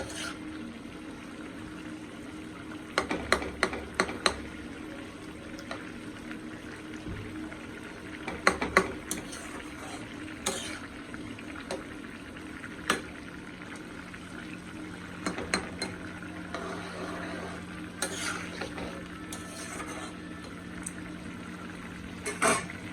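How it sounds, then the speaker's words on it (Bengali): Paneer and potato curry simmering in a pan, a low steady bubbling hiss with occasional clinks of a spoon or pot scattered throughout, moderately close with no talking. "এখন ঝোলটা একটু শুকালে আমার পনির কমপ্লিট"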